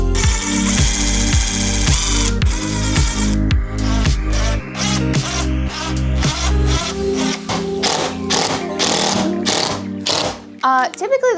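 A power drill drives trim screws into a stair runner on the stairs in a run of short, close whirring bursts that rise in pitch, with pauses and a few knocks between them.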